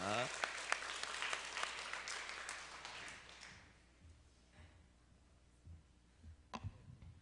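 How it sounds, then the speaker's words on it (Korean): A church congregation claps at a student mission trip report service, a few seconds of fairly faint applause that thins out, leaving sparse scattered claps and room noise. "우리 박수로 또 격려해 주시기 바라겠습니다"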